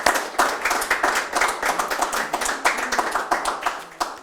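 A roomful of people claps for the speakers at a press conference, giving dense, steady applause throughout with no voices over it.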